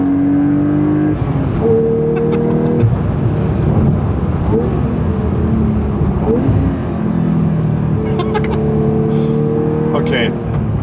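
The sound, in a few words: Porsche 911 engine blow-off when lifting off gas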